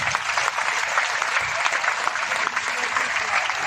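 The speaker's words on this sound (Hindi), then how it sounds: "आप जोरदार ताली बजाओ, डीसी ऑफिस, रेवेन्यू ऑफिस के लिए।" A large crowd at a public welcome event in Hisar claps loudly and continuously, a dense unbroken wash of applause with no pauses.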